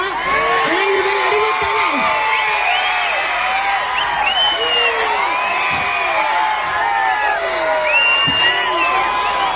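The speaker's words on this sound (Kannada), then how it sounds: "ಇವಾಗ ಗೊತ್ತಾಯ್ತು ಕ್ರೌಡ್ ಸೌಂಡ್ ಹೆಂಗಿದೆ ಅಂತ" A large outdoor festival crowd at the Kampli Utsav stage roars steadily, with many overlapping whoops, cheers and shouts sustained loud and close throughout.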